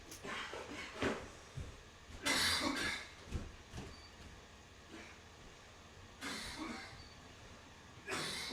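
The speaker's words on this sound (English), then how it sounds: "My son, he's coughing." Several separate coughs, harsh and fairly close, spaced out with quiet gaps in between.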